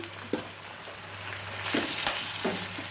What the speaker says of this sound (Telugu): ఉల్లిపాయ, పచ్చిమిరపకాయ వేసుకొని ఇప్పుడు మటన్ వేసేసాను.